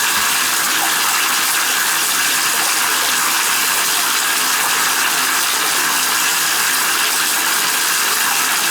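Loud, steady rush of hot water pouring into a backed-up tub drain, a continuous close-up gushing hiss without pause.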